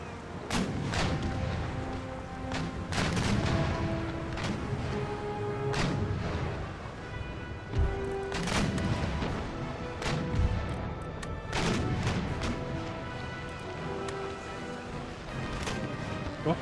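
Ship cannons in Empire Total War fire round shot in a continuous naval barrage, with heavy booming blasts and crashing impacts repeating irregularly over a constant rumble of battle.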